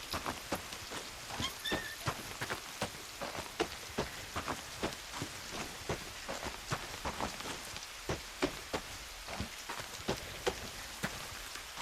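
Rain in the A.I.L.A video game, a steady patter of drops hitting a surface with scattered sharper splats throughout. It is fairly quiet and there are no voices.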